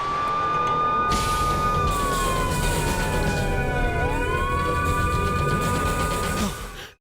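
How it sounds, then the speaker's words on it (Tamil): A police siren wails continuously, its pitch sweeping slowly down and back up, fairly close and steady for several seconds before cutting off at the end. "போலீஸ் சைரன் கேக்குது?"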